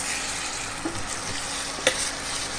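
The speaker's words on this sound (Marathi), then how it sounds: "भाजला आहे बघा हा मसाला" Masala of onion, garlic, coriander powder, garam masala and turmeric roasts in a pan for a Kolhapuri-style village chicken curry, giving a steady close sizzle with a few soft stirring scrapes.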